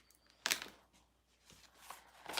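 Fabric pattern pieces for a Celine bag are roughly cut out with scissors: a few quiet, brief snips and paper-fabric rustles at close range, with soft handling noise between them.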